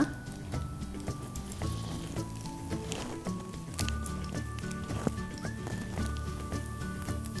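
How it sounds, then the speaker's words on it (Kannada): Curry leaves, lentils and turmeric fry in hot oil for vangibath, giving a quiet, steady sizzle with soft stirring scrapes and faint tonal sounds in the background. "ಕರಿಬೇವು ಇದು ಹಾಕಿ ಸ್ವಲ್ಪ ಹುರಿತಾ ಇದ್ದೀನಿ"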